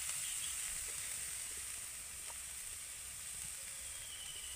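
Vegetarian potol filling sizzles in ghee in a pan while being stirred, a steady soft frying hiss running evenly throughout with faint occasional scraping, quiet and close with no talk.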